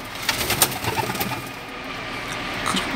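Pigeons cooing inside a loft, soft repeated low coos close by over a faint background hum, with a few brief flutters and knocks.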